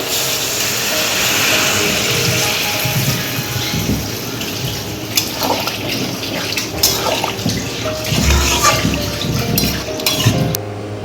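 Water poured into a pan of prawn curry with mustard paste, a steady close hiss and splash running for several seconds, with brief clatters of utensils partway through.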